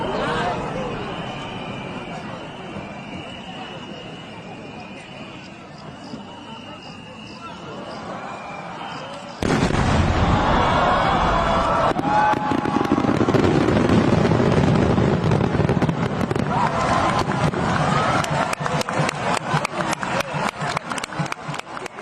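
A giant Yancha Kordama firework shell, over a metre wide, bursts in the air with a sudden loud boom, followed by dense crackling and repeated sharp pops amid a murmuring crowd.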